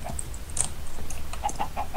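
Chickens clucking in the video game Minecraft, a few short clucks and chirps over a steady low background hum, with no talk.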